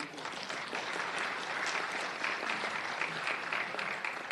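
Applause for an honoree at a Los Angeles County community recognition ceremony, a dense, steady clapping from a crowd sustained for several seconds, fairly loud and close, with no clear voices over it.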